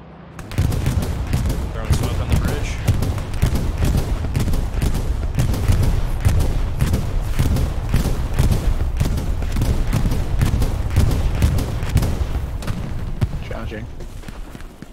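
Dense, continuous gunfire and heavy bombing blasts rage throughout the World War II shooter Hell Let Loose near a bridge over a canal, with rapid volleys of shots and booming impacts that stay loud and close before easing slightly at the end.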